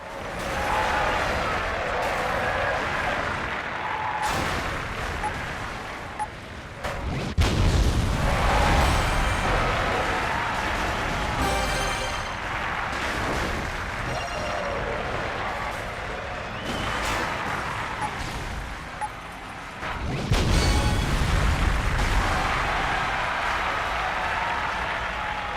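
Crash Breaker explosions in the racing game Burnout Revenge: loud booming blasts with crunching debris and roaring noise, several heavy bursts, notably around the middle and near the end, over continuous game racket.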